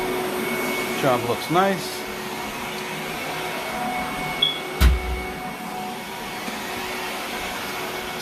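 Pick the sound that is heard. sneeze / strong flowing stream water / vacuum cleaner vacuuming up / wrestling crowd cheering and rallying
vacuum cleaner vacuuming up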